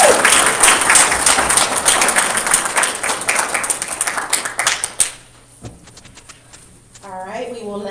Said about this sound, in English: He definitely deserves another round of applause.